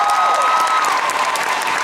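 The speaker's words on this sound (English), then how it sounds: "can we get another round of applause for Paul?" Audience applause for Paul Blackstone at a Comic-Con 2018 Arrow panel, a dense, steady wash of clapping from a large crowd filling the short stretch throughout.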